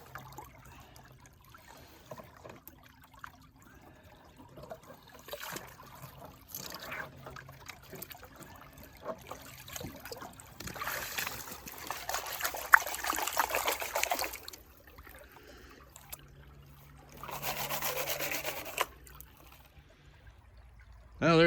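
Water sloshes and trickles in a gold pan outdoors while panning for nuggets, soft intermittent swirls and splashes in bursts, fairly faint and close.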